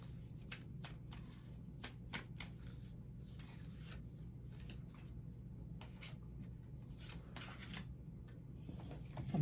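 Tarot cards are shuffled repeatedly, giving soft rapid riffles and snapping flicks close by over a quiet background.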